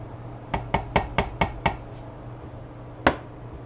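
White bean soup with rosemary and lemon is served into a bowl from a Tupperware stack cooker: six quick, close clinks of a ladle against the bowl in a steady rhythm, a pause, then one final sharper clink, with no talking.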